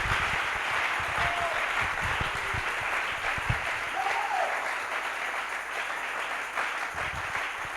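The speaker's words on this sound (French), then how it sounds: "Can we give a hand of clap to the Lord?" A church congregation at an international convention in Yopougon claps and applauds steadily and loudly throughout, a dense, sustained wash of hands with faint voices mixed in.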